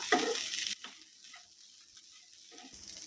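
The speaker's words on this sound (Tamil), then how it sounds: "இப்போ இதை நல்லா மிக்ஸ் பண்ணி விட்டுக்கலாம்" Black kavuni rice idli upma being mixed in a pan over low flame: a brief burst of sizzling, then quiet soft scrapes and small clicks from the spatula, with a short sizzle returning at the end.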